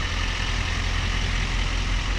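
A 2011 Chevy Silverado 3500 heavy-duty dually with a Duramax 6.6 turbo diesel runs with a steady, loud, low rumble that does not change in pitch or level.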